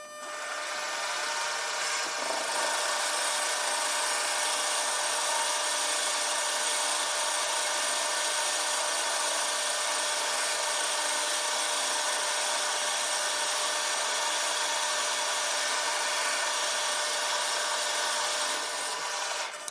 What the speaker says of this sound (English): I'm going to turn the lathe on and activate the auto feed so it'll move at a steady pace as it moves along the workpiece